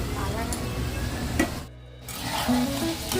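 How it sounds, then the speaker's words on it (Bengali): French fries frying in hot oil in a wok give a steady crackling sizzle that drops out briefly midway, with a voice talking over it. "তো এবার তেলের মধ্যে আমি ফ্রেঞ্চ ফ্রাইগুলো দিয়ে দিলাম"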